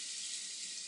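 Kitchen tap water running while a milk frother is rinsed, a brief steady hiss of flowing water, faint and alone.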